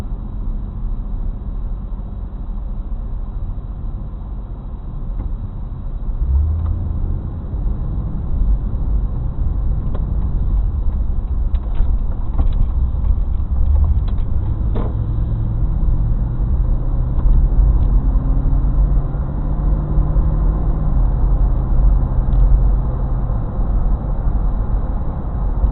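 Road traffic at Friday evening peak hour, heard from inside a moving car with an Apeman C680 dash cam: a steady loud low rumble of engine and tyres, with passing vehicles swelling and fading, no talking.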